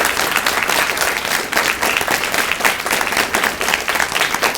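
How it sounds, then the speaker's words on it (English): A school audience applauds at a primary schools state debating championship, with dense, steady clapping that runs loud and continuous for several seconds, without speech. "If anyone actually did any work this week and deserves a round of applause, it's the teachers and parents who looked after you"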